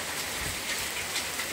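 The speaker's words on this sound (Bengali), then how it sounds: "এই দেখো বৃষ্টি পড়ছে" Steady rain falls on a rooftop, a dense, even hiss of drops throughout, fairly close.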